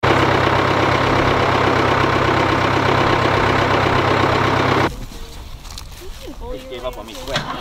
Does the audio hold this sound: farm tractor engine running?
yes